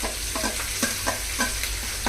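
Chopped tomatoes cook in a pan over a low flame, giving a steady soft sizzle broken by a few brief scraping stirs, close and without talk.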